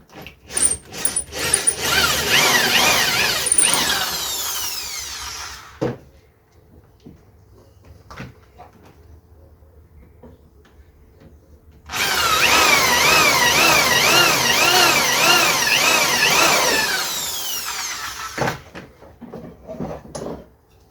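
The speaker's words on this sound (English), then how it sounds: "And there we go, pilot holes drilled." A power drill boring pilot holes into a wooden take-down recurve bow in a workshop, with two loud sustained whining bursts of several seconds each, separated by a quiet pause with a few clicks and handling knocks.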